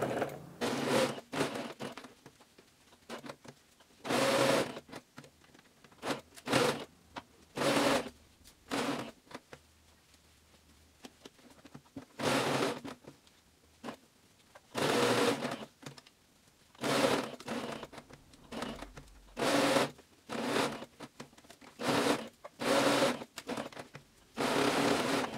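A sewing machine stitches a fabric face mask in repeated bursts of fast, steady mechanical whirring, separated by short pauses and quieter handling sounds. No one talks.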